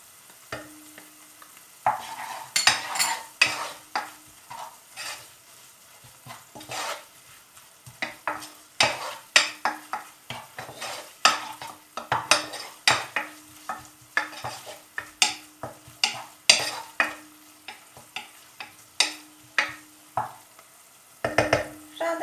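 Pasta with tomato paste and black pepper is stirred in a pan, with a light sizzle under it: a long run of close, rhythmic scraping and sticky stirring strokes, no talk.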